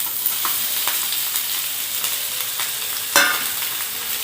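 Cabbage tipped into a pan of frying capsicum and onion, a continuous close sizzle with a brief louder burst as the vegetables land, no voices.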